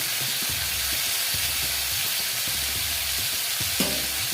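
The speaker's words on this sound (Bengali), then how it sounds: "দিয়ে মাছটা ভেজে নেব" Boal fish frying in a pan over raised gas heat, producing a loud, continuous hissing sizzle with a faint, regular low thumping underneath and a single brief knock near the end.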